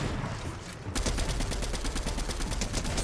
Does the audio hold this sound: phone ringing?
no